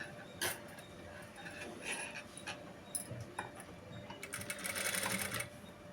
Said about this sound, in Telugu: ఒక హాఫ్ ఇంచు పాదం వార కుట్టు అనేది వేసుకోవాలి